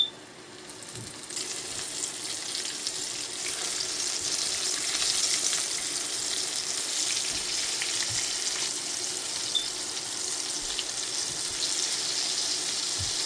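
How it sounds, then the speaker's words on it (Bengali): Flour-coated chicken pieces fry in hot oil, a loud continuous crackling sizzle that swells slightly after the start and then holds steady and close throughout. "আমি একটু বেশি করে আটা নিয়েছি এবার দিয়ে দিব গরম তেলে দেখুন"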